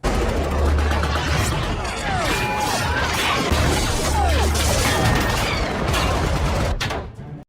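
An action-film gunfight erupts in dense, loud, continuous chaos of shots, crashes and impacts layered over a low rumble, with a voice speaking over the din throughout.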